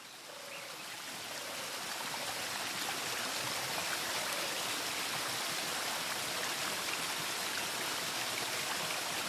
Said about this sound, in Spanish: El agua se recogía aquí, en el manantial